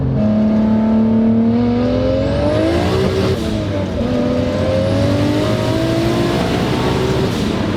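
A 700-horsepower Saturn Sky running a standalone EFI setup accelerates hard, its loud engine revving steadily upward through the gears from close range, with a brief dip at a shift before the pitch climbs again.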